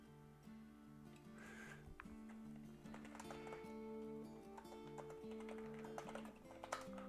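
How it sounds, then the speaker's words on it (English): Typing on a computer keyboard during a live-chat game stream, with scattered key clicks under a steady layer of tonal background music. "I'll show you what I'm typing in the live chat"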